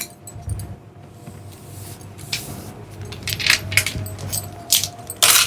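Coins clink and drop in a quick scatter of bright metallic hits while being arranged for a coin lotus craft, growing busier toward the end, close and moderately loud with no talking.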